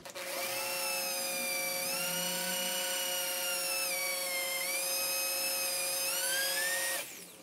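A high-pitched drill whines steadily for several seconds, its tone dipping and rising as it bores into steel with cutting fluid dripped on, then cuts off abruptly.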